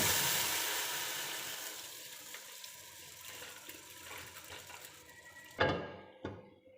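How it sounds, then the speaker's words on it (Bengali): Water poured into fried lentils in a pot makes a loud rushing splash that hisses and gradually fades, followed by two sharp clatters near the end; no one speaks. "ডাল ভাজি করা শেষ এখন আমি পানি দিয়ে রেখে দেব"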